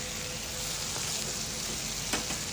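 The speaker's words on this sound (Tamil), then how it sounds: "இந்த கரண்டியில் 2 கரண்டி ஃபுல்லாக தேங்காய் பால் ஊற்றிட்டு நல்லா கிண்டுங்க" Beans stir-frying with coconut milk sizzle in a pan, a steady close hiss with faint scraping of a spoon as the mixture is stirred.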